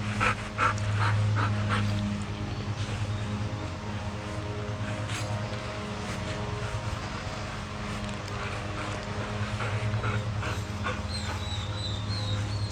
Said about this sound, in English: You might hear Gus in the background